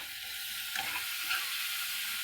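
Steady, soft sizzling of food frying in oil in a pan, with faint stirring scrapes under a continuous hiss.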